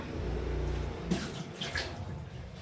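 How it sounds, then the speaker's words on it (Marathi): Water poured out of a drinking glass, a brief splashing pour that follows a low hum and tails off into a soft wet trickle. "हे जे पाणी ते आपण ओतून देतो."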